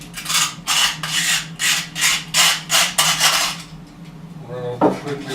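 Knife blade scraping dried glue off a piece of door wood, a run of rhythmic close rasping strokes, about eight in a row, followed by a softer pause and a brief clack.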